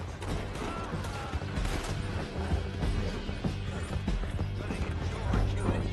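Horses gallop in Red Dead Redemption 2, with men riding down a canyon trail. Hoofbeats drum in a rapid, continuous rhythm over a busy bed of rattling and mechanical clatter.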